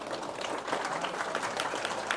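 Political rally crowd in Indonesia clapping on cue, a continuous, moderately quiet patter of many hands with a faint low rumble underneath.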